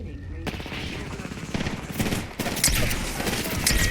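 Rapid automatic gunfire from an Apex Legends match crackles in dense bursts, growing louder and heavier toward the end, with a voice talking over it.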